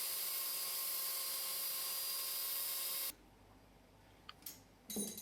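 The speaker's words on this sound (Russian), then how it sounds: "На токарном станке производится шлифовка" A lathe grinding an Audi A4 steering rack rod gives a steady, high-pitched machining whine with a constant tonal hum for about three seconds, then cuts off, leaving quiet shop noise and a few light clicks.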